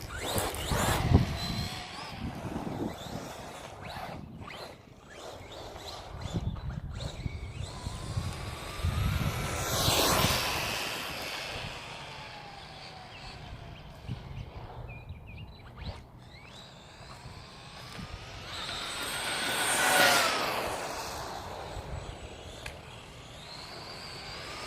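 Arrma Typhon 3S 1/8 scale RC buggy run at full throttle, its high electric motor whine rising and falling in swells as it passes near and away, with strong surges around the middle and end.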